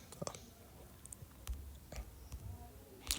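Typing on an iPhone's on-screen keyboard while writing in the Google Docs app: a sparse run of faint, soft taps and clicks at an uneven pace, close and quiet with no voices.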